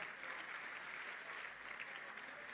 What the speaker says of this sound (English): Huge round of applause from the crowd here.